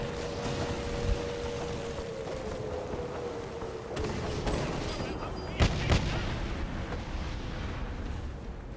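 A zeppelin is brought down by gunfire from an armed boat in Assassin's Creed Syndicate: a steady droning hum and rumble run throughout, broken by a few sharp booming shots, with a louder double blast near the end.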